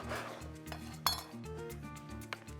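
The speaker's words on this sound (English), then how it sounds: "Put them on a sheet pan" Ciabatta bread halves set onto a metal sheet pan, giving a few light clinks and one sharper metallic tap, fairly faint over quiet background music.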